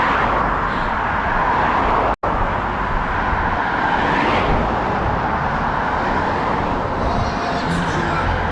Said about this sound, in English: I'm going to divert off to the left up here so we don't get all this traffic noise